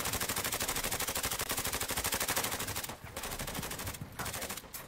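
Rapid automatic gunfire in a video game, a dense, steady machine-gun rattle of evenly spaced shots, loud and close, with a few brief pauses between bursts near the end.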